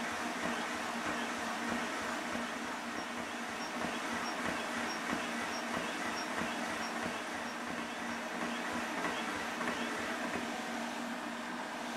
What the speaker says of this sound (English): Then simply restart the compressor and close the bleed valve.